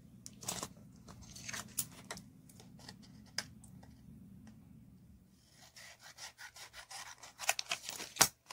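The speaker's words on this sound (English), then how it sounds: "I think I'm going to have to trim some of this off." Paper being trimmed for a small envelope booklet folio, with a run of quiet, uneven cutting and rubbing strokes close by and a sharper crisp cut near the end.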